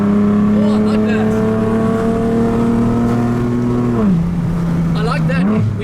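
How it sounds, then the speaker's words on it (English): A Nissan 370Z's loud custom exhaust drones low and steady under load, then dips and rises as revs shift, loud and close with some voices in the background. "When the revs are low and you're putting it down, you've got that under load sound"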